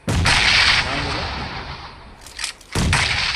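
Grenade blasts in a battle royale shooter game, loud booming bursts with a long rumbling tail, then a second sharp explosion near the end.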